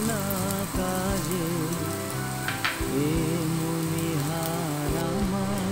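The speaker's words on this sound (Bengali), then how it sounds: "আর একটু লাল করে ঘিয়ে ভেজে দিচ্ছি।" Grated coconut frying in ghee for a Bengali caramel sabudana payesh, a steady close crackling sizzle with dense popping throughout and a brief clink partway through.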